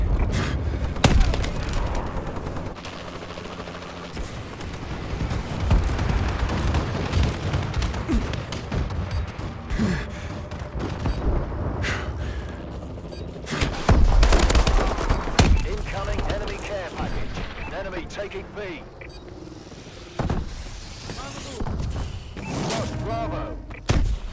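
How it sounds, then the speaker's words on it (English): Bombing run explosions and gunfire in the video game Call of Duty: Advanced Warfare, with heavy booms, thuds and scattered shots running continuously for the whole stretch beneath an in-game announcer voice. "Enemy bombing run incoming."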